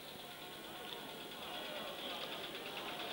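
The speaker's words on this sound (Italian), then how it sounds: "Si stanno preparando le moto zappe e le moto agricole per il trasporto dei covoni del grano" Motor hoes and farm vehicles idle together in a steady, continuous engine drone that stays at an even level throughout, with no pauses or revving.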